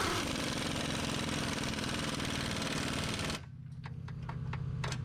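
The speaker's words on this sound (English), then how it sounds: "Then we go ahead and tighten up our bolts on our rear mount." A rapid power wrench rattles while tightening bolts on the rear mount of a Ford Focus, loud and continuous for about three seconds before stopping abruptly, followed by a few faint ticks and clicks.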